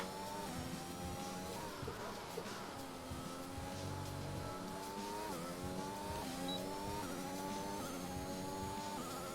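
Racing car engines in a video game career race whine and rise through repeated gear shifts, with rising and dropping pitch sweeps over a steady roar and faint tyre squeal, continuous and fairly close, without talk.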